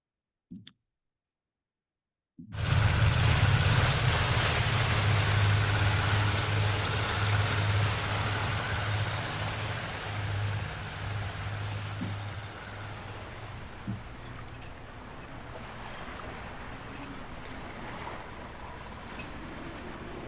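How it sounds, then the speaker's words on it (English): After a brief silence, a steady broadband wash of ocean ambience fills the clip with a low rumble underneath, gradually softening. "Ambient sound of the ocean."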